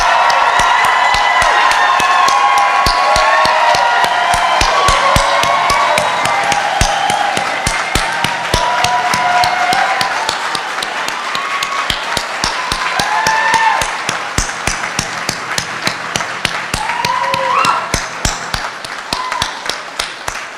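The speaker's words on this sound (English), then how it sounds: "How about a big round of applause?" An audience at a nursing pinning ceremony gives new nurses a long round of applause, sustained crowd clapping with scattered cheers and whoops that slowly thins out over about twenty seconds.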